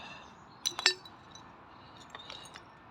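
Dug-up glass bottles, green glass among them, clinking together at a freshly dug rubbish tip: a few sharp, fairly faint clinks in quick succession, then softer scattered taps, with no talk.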